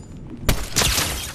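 A sniper rifle shot in a video game rings out as one sharp loud crack, followed by a second booming report that trails off, with no talking.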